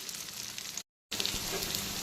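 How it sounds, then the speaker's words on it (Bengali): Potatoes frying in a covered pan for a ladyfinger curry, a soft, continuous low sizzle with a short gap of silence midway. "তো সবার প্রথমে আলুটাকে আমি ভালো করে ঢাকা চাপা দিয়ে ভেজে নিচ্ছি।"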